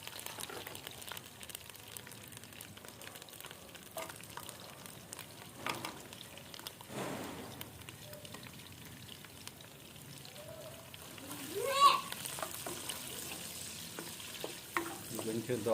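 Onions frying in oil with curry leaves in a pan, a soft, continuous sizzle and crackle with occasional stirring scrapes, fairly quiet and close.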